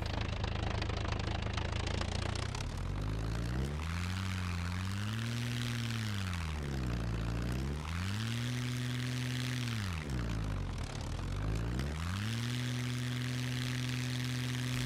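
A propeller plane engine in the video game SCUM revs and eases repeatedly while leaving a hangar for takeoff, a loud droning hum that rises and falls in pitch several times.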